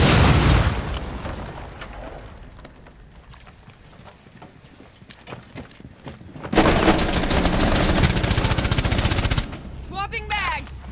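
Breach charge explosion in Rainbow Six Siege: a loud blast opens the clip and fades into quieter in-game rattle and scattered noise, then a dense, sustained roar of crackling gunfire or debris, with brief voices near the end.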